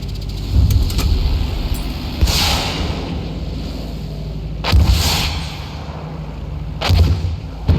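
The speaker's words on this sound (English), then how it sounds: "Try using the rockets on them." Three heavy rocket launches fire one after another from a plane at ground targets in the World War I game Battlefield 1, each a loud whooshing blast with a booming tail, spaced a couple of seconds apart over a steady engine drone.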